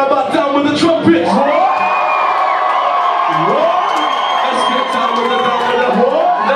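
A concert crowd at a live show in a small Brighton venue screams, whoops and cheers loudly and continuously, with high yells and shouts rising over a dense roar.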